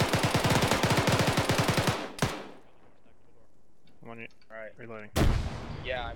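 Squad shooter video game firefight: a rapid burst of close gunfire, then a sharp frag grenade blast, a short radio-like voice, and a second heavy bang near the end.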